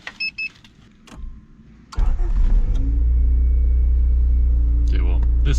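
A 1990s Honda EF hatchback engine cranks and catches, brief starter whir then settling into a loud, steady idle after a few clicks and faint rustling.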